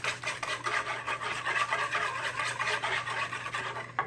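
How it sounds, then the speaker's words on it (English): Cookie batter for German chocolate cookies is whisked in a bowl, making a close, continuous rasping, scraping swish with rapid irregular strokes. "now I'm just going to whisk this for just a little bit and get everything incorporated"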